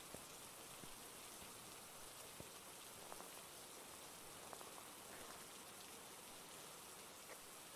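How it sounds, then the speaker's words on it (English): Steady rain hiss in the ghost-hunting video game Phasmophobia, a dense, even wash of falling drops with a few sharper taps on surfaces, continuous throughout and without talk. "I don't like rain."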